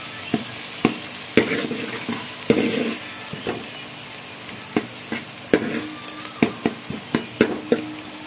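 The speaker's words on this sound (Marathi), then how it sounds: "कांदा थोडा लालसर होऊ दे." Onions fry in a pan for Malvani-style dry chicken while a spatula stirs them. A steady sizzle runs under repeated sharp scrapes and knocks against the pan, close and fairly loud, with no talking.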